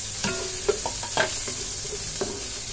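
Onion sautés in a pan while mung bean stew is cooked, giving a soft, continuous frying sizzle under a few stirring scrapes and light utensil knocks, close and with no talking.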